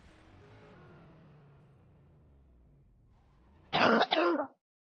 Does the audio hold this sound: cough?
yes